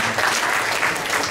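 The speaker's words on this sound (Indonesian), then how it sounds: "Tepuk tangannya untuk Mas Abran" An audience at a Gambang Syafaat gathering applauds a speaker with dense, steady clapping that fills the short moment without voices.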